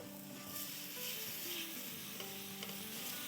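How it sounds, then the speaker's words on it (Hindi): Ginger and garlic paste sautéing in a flat pan for tawa chicken, giving a steady soft sizzle with faint stirring scrapes throughout, fairly quiet and without any talk. "30 सेकंड हो गई है हमारे जिंजर और गार्लिक को फ्राई होते हुए।"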